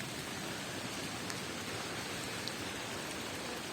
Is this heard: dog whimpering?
no